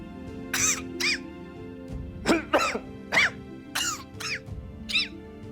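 A series of short, sharp coughs, about eight in irregular bursts, close and fairly loud against a quiet background hum.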